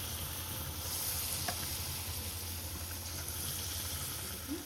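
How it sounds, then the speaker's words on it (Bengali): Palm fritters deep fry in oil with a constant, dense sizzle that stays steady throughout, close and fairly soft, with no talking. "এই বড়াগুলো উল্টে পাল্টে ভেজে নিচ্ছি"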